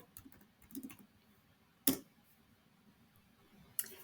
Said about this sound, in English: let's type Genesis, just right here